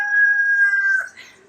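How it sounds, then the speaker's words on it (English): Rooster crowing in the early evening, one long sustained tonal call held steady before breaking off with a ragged ending, loud and fairly near. "crowing rooster at minutes to 6 in the evening"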